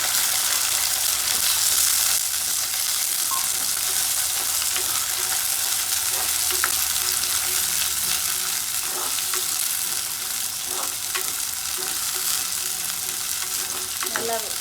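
Chopped shallots and a few curry leaves fry in hot oil for a mutton curry, giving a loud, steady crackling sizzle throughout with faint scraping stirs and no talk.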